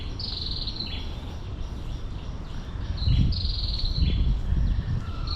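Birdsong in the gardens around Gardens by the Bay, Singapore: repeated bright chirping phrases at moderate distance over steady outdoor ambience, with a couple of low rumbles partway through.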